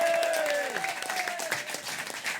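Crowd clapping and cheering from a television studio audience at a French comedy show, a dense, steady wash of applause that stays loud throughout with a brief tonal sweep near the start.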